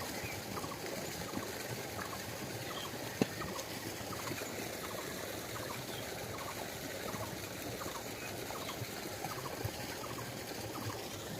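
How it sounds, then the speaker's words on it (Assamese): Steady running water from a river flows into a pond and trickles throughout, a continuous close-up wash of sound with no voices. "নদীৰ পৰা পানী আহি আছে"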